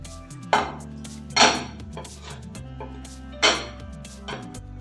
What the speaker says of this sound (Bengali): এবার বন্ধ করে দেবো এটাকে ঢেলে নেবো